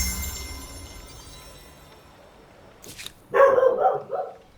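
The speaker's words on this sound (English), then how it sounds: "Sorry about my dog barking" A pet dog barks at home, a short sharp yip followed by a burst of loud, close barks near the end after a quieter stretch.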